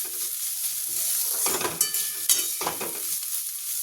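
Chopped banana stem being stirred and fried in oil in a pan, a quiet sizzle broken by a few clattering spatula scrapes, close by and without voices.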